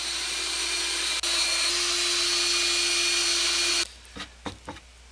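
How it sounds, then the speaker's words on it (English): Power drill boring bolt holes through wooden crossbars mounted on sled skis, a loud steady whine running for about four seconds before cutting off, then a few short knocks and bumps. "Put the crossbars on the skis and drilled holes for the bolt."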